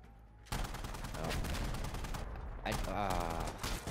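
Enemy gunfire in Insurgency Sandstorm: loud, rapid automatic bursts that cut in abruptly, pause briefly, then resume with another sustained volley.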